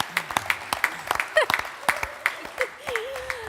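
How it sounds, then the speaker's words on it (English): A small audience applauds the arrival of a Paris chef at a Christmas event, with scattered distinct claps and cheering voices and whoops mixed in. "Can we have a round of applause, please?"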